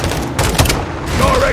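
In Call of Duty: Modern Warfare 2, a launcher and heavy gunfire erupt in a dense battle din, with booms and rapid shots over a constant roar, mixed with soldiers shouting.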